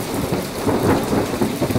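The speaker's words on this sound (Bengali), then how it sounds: "তত সময়ে ঝিরঝির করে বৃষ্টি শুরু হয়ে যায়।" Steady drizzling rain with rumbling thunder in a dark open field at night, a continuous wash of rainfall layered over low rolling thunder, loud and unbroken, with no voices.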